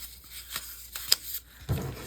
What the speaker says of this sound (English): sorry for the clanging of the scissors.